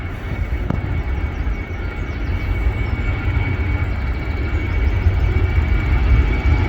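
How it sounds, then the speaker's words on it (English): A Finnair airliner takes off at Manchester Airport, its engines producing a steady, heavy low roar that slowly grows louder throughout, with no voices. "it's now time for Finnair to go into thin air back to Finland"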